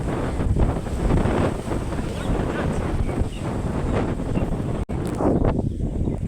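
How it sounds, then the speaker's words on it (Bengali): Strong wind ahead of rain on a cloudy day gusts across the microphone in surging waves, loud and rumbling, briefly dropping out once before picking up again. "এবার খুব হাওয়া দিচ্ছে, তাই না?"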